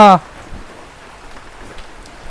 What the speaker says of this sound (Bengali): বৃষ্টির মধ্যে আর কি করুম আপনাদের সাথে কথা বলি